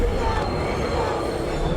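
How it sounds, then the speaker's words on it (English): A subway train in the movie Joker rumbles with a loud, dense roar and a faint metallic whine, heard steadily throughout the scene. "Yeah, there's a train."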